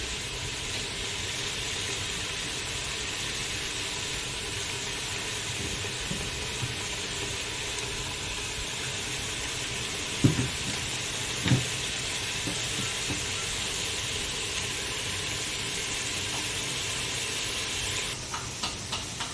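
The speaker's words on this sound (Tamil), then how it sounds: "இந்த வாசனை பொருளும் பச்சை வாசனை போகிற அளவுக்கு வதக்கிக்கலாம்." Ground spice paste sautéing in a pan for mushroom biryani, a steady close hiss and sizzle running throughout with a couple of brief clinks near the middle and light taps toward the end.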